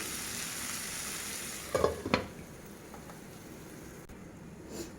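Beetroot fries in a covered pan with a steady soft sizzle, broken by a couple of brief clatters of the lid or utensil.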